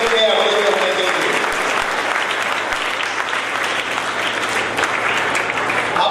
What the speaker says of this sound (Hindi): जोरदार तालियां आ गई